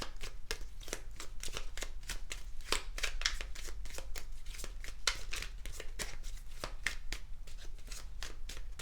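Tarot-style fortune cookie cards shuffled by hand for a card reading, a steady run of quick, crisp riffling snaps repeating close up for several seconds with no talking.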